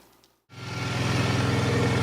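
A Polaris Magnum 325 ATV with a lean-running fuel starvation fault starts and settles into a fast idle, its steady engine drone rising from near silence and holding loud and close.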